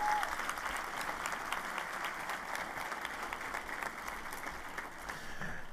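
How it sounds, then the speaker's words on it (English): A commencement crowd at Warner Pacific University gives a steady round of applause for the board chair and vice chair, a continuous wash of clapping at moderate distance that holds level throughout. "Join me in giving them a round of applause"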